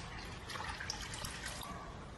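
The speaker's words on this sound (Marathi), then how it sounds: "दुसऱ्यांदा मी पाणी घेतलेलं आहे आणि परत ही भाजी धुवायला टाकत आहे" Fenugreek leaves being washed in water: faint, soft splashing and trickling of water, with small drips, continuing quietly throughout.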